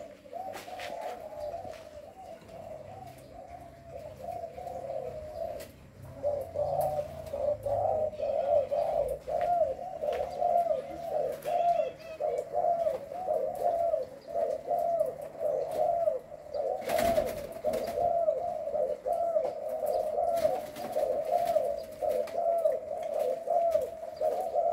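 A spotted dove coos steadily in repeated, rhythmic phrases for about twenty-five seconds. The bird sounds fairly close and loud, with faint background noise and a brief burst of noise midway through.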